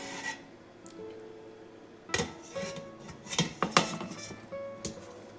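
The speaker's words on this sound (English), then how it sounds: "we're going to add the pesto sauce to the pasta" Drained boiled pasta tossed with pesto sauce in a pot, giving a close mix of scraping, rubbing and sharp metallic clinks of a utensil against cookware that grow busier and louder partway through.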